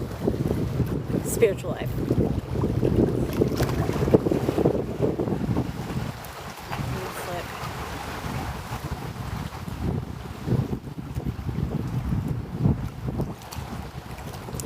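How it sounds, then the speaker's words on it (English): Steady gusty wind buffets the microphone outdoors on a bay, with someone talking over the rushing noise throughout. "It's a windy day on the bay"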